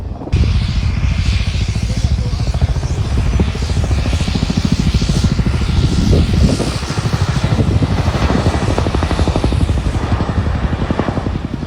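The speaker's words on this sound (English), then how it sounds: "Why is that Chinook flying so low?" A Chinook helicopter flies low over an airshow at RIAT 25, its loud, steady rotor beat and engine roar thudding continuously and close throughout with no voices.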